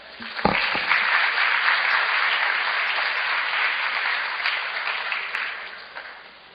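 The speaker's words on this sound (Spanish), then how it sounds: "Por favor, recibámoslo con un fuerte aplauso." An audience welcomes a lecturer at an education seminar with a hearty burst of applause, dense and even for about six seconds before tapering off.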